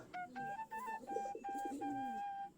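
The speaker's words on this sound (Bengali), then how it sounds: "সবগুলাই দেশি জাতের কবুতর" Native desi-breed pigeons coo softly nearby, giving a series of short warbling coos with a few tonal notes, fairly faint and with no voices over them.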